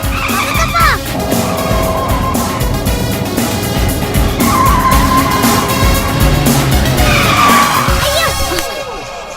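A car brakes hard in a movie scene, tyres squealing and skidding in long rising and falling screeches over engine rumble, loud and close, with brief voices mixed in.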